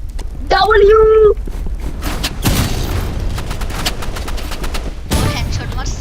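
Gunfire rings out in the shooter video game Rivals, bursts of rapid shots under excited players talking over voice chat.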